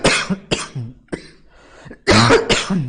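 A single person coughs loudly and closely several times in uneven bursts, with brief pauses and a harsher throat-clearing burst near the end, no other sound around it.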